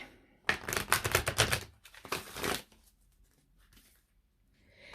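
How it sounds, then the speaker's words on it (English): Cards drawn and shuffled from a Moonology oracle deck, a close, quick burst of crisp papery riffling followed by a shorter second flurry, then quiet with faint handling. "I'm going to get a card or two out of the Moonology deck."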